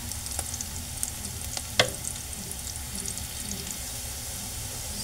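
Aromatics browning in a pan for creamy carbonara, a continuous close sizzle with occasional crackles and one brighter pop or clink in the middle, no speech.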